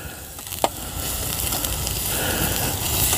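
Lean venison chops sear over a fire on a portable wood-burning camp stove grill, giving a steady close sizzle with a single sharp pop early on.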